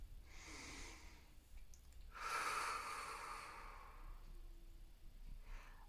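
A slow, deep breath drawn in during a guided relaxation, soft and close, followed by a longer airy exhale, heard alone without speech.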